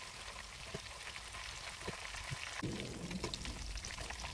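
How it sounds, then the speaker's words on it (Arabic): Cubes of eggplant frying in hot oil, a dense steady sizzle with light crackles, close and continuous with no voices. "مكعبات بتنجان، برضو البتنجان الرومي مقطعينه مكعبات وبنقليه برضو في الزيت"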